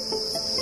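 Crickets at a cricket farm, a steady high continuous chirring drone, close and fairly loud, with no voices over it.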